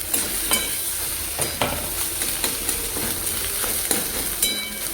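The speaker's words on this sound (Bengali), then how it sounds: "দেখো ডিমটা একটু ভাজা ভাজা করতে হবে" An egg fries in a wok, sizzling steadily as a metal spatula scrapes and stirs it in regular strokes, close up with no voices.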